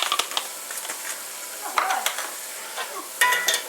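Steak sizzles in a pan with garlic powder for pepper steak, a close, crackling fry broken by sharp stirring and scraping bursts.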